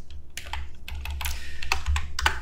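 Quick bursts of keystrokes on a computer keyboard, irregular clacks with a few firmer key presses near the end, close and clear with no talking.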